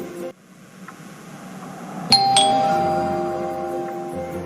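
A doorbell chimes twice in quick succession, bright and clear, its ring lingering and fading over a low room hum.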